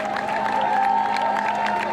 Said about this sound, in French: je voudrais que ces applaudissements soient pour eux